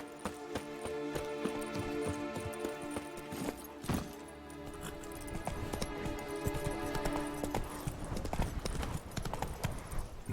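Roach, the horse in The Witcher 3 video game, gallops in quick rhythmic clip-clop hoofbeats that run continuously, alone with game ambience.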